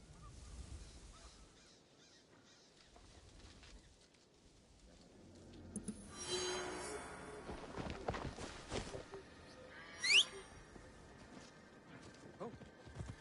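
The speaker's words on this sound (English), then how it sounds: "Assassin's Creed probably has the dumbest horses in the business." Horse hooves clip-clopping in Assassin's Creed Shadows, starting faint and growing louder and busier, with other game sounds and a short sharp effect near the end.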